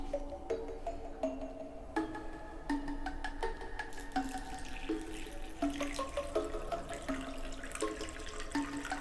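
Water from a tap runs and splashes into rubber gloves being filled, a steady close trickle with shifting gurgles and little drips, alone without talk.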